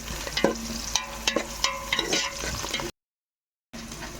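Sliced onions fry in hot oil in a pan until golden brown, a steady close sizzle with sharp spatula clicks and scrapes as they are stirred. The sound cuts out briefly near the end, then the frying resumes.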